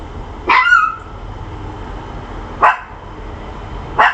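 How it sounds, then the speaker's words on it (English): A dog barks three separate times, once near the start, once in the middle and once at the end, each bark short and close with quiet pauses between them. "That's my dog."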